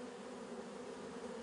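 Honey bees give off a dense, continuous buzz for a short moment, steady and fairly faint, with no voices.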